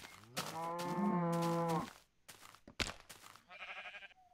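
Cattle mooing in a farming video game, a long loud low moo up front followed by fainter bleating animal calls, with no talk over it.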